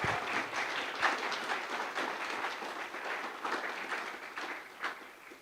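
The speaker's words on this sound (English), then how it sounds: "give them a round of applause to actually make that happen" Audience applause at the OECS Super Regional Challenge opening ceremony, a quiet, slightly distant patter of many hands clapping that holds fairly steady throughout and fades a little toward the end.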